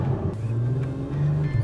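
Acura TLX Type-S sedan climbing a steep hill, its engine holding a steady, fairly loud low drone with slight rises in pitch, heard from inside the car with no talking.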